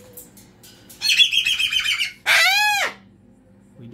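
A cockatoo screeches close by, first a harsh, rapid chattering burst lasting about a second, then a loud, strained, rising-and-falling squawk, with quiet room noise in between.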